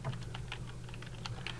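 Rapid, steady clicking of computer keyboard keys while a web address is entered into a PDF link field in Adobe Acrobat DC Pro, close and continuous with no voices.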